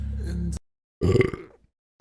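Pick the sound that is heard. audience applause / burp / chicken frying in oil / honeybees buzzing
burp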